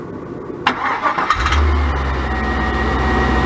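A stock 5.3 LM7 LS V8 from a 2000 Tahoe, swapped into a 1984 C4 Corvette, cranks briefly with a few clicks, then fires and settles into a loud, steady, rumbling idle close by.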